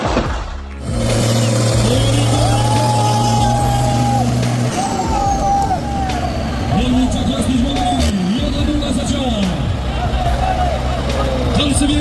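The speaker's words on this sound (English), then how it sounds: "With the roar of the engine" An off-road truck engine roars loudly and continuously near at hand, with groaning tonal sweeps as it strains and revs, accompanied by hissing and clanking and a voice speaking over it.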